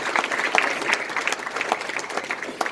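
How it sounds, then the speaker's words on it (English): An audience at a gathering applauds its leaders with steady, moderately loud clapping from many hands, a dense texture with small swells and no speech over it. "Another round of applause for all the leaders here"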